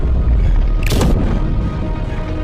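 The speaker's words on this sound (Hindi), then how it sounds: "सैनिकों ने तुरंत तोप के गोले ड्रैगन की तरफ दागने शुरू किए" A single deep cannon boom fired at a dragon, rising over a steady rumbling background and fading within a fraction of a second.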